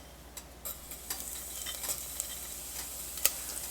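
Cumin seeds sizzle in a tablespoon of olive oil inside a pressure cooker, a soft crackling hiss broken by scattered small pops and light spoon scrapes, with no voices.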